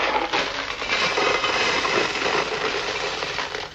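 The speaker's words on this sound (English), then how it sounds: "What have we got here? Box of gravel." A box of gravel shaken to make tape sound effects, a continuous dense rattling hiss of small stones, steady and close.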